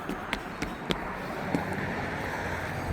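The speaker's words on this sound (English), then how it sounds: "It's very, very windy here." Wind roars steadily against the microphone beside a 2020 Allegro Phaeton 40AH motorhome, a broad rushing buffet with occasional sharp knocks and gusts.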